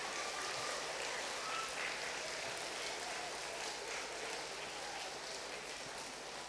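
A crowd at a Catholic high school Founders' Day Mass breaks into steady, sustained applause, a dense even patter of many hands clapping throughout, with no pauses.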